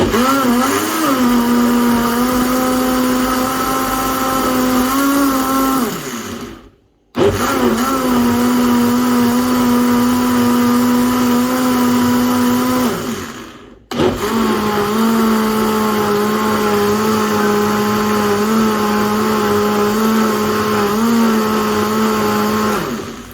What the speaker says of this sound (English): I'm going to be blending